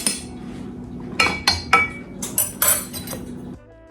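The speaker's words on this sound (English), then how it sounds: "I'm using a spoon to spoon it into my measuring cup" Metal spoon clinks and scrapes against a measuring cup while spooning flour for Hawaiian rolls, a rapid series of sharp close taps over a steady background hum, with no voices.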